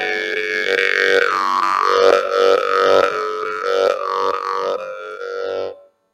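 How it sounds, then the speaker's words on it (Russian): A Yakut khomus jaw harp played solo in a quiet room at a master class, its steady twanging drone carrying a shifting overtone melody in rhythmic pulses for about six seconds before stopping abruptly. "Я беру хамус и начинаю играть"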